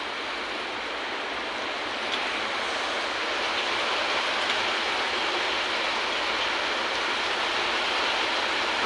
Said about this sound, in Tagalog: Ngayon, umulan dito sa Kuwait.